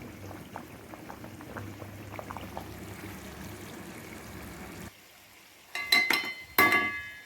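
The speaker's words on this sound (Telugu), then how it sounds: "ఇప్పుడు ఈ రైస్ని వార్చుకుందాము." Boiled rice, about three-quarters cooked, is drained of its water for a home-made chicken dum biryani, with a steady pouring, bubbling wash of liquid followed by a short quiet gap and then two louder splashing gushes near the end.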